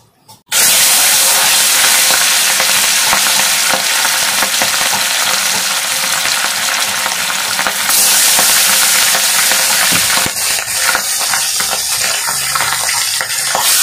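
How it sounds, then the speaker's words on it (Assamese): Pieces of rohu fish sizzle loudly in hot mustard oil in a wok, a bright continuous hiss that starts abruptly and holds for over ten seconds with faint crackles, no voices. "এতিয়া মাছখিনি মই ফ্ৰাই কৰি ল'ম"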